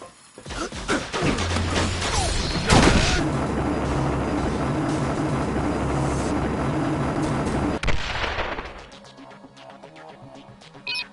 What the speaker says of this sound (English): All I ask is that you take the helicopter out quick.